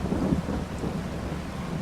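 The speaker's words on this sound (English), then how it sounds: "Hope you can hear me over that thunder." A thunderstorm in the farming video game Farming Simulator 22, set on the Silverrun map: a loud, low, continuous rumble of thunder with steady rain noise rolls through without a break.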